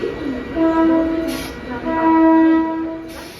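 A Mumbai suburban local train bound for Ambarnath sounds two long, loud horn blasts close by, with steady rail rumble and a short hiss between them.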